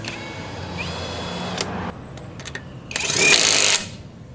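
Bamse 1/2-inch drive cordless impact wrench running on car lug nuts: two short high whirring bursts with small ticks between, the second louder and sustained for about a second, close up with no talk.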